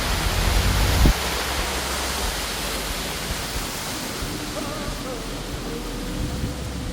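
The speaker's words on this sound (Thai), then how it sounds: "ด้านหลังนี้จะเป็นน้ำตกเล็กๆทุกคน" A small waterfall near Furka Pass in the Swiss Alps gives a steady, even rush of falling water. A brief low rumble sounds at the very start.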